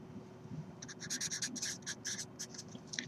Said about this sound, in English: So I'm going to write a note.